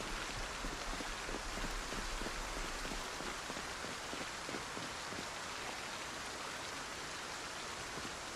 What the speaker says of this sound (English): I still hear the rain just as loud